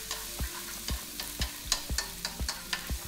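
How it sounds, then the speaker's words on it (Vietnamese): Oil sizzles softly in a pan as garlic, shallots, lemongrass, ginger and chilli fry, with regular stirring clicks and scrapes every half second; quiet and close, no talk. "Làm nóng dầu thì mình sẽ phi thơm nửa số hành"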